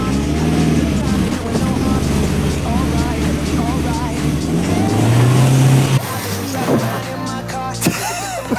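Car running on a 3D-printed wheel accelerates hard with a loud, steady engine roar rising in pitch, then cuts off abruptly as it brakes; voices speak over the engine noise and after the stop.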